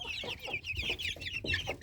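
Chinese silkie chickens cluck in quick, overlapping bursts close at hand, a busy, continuous run of short calls with no voices.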